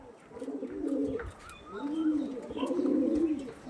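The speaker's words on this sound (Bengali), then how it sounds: "দেখুন বন্ধুরা কিরম কোয়ালিটির পায়রা আজকে" Pigeons coo softly in repeated low, rolling phrases, close by, with a few faint chirps in the background.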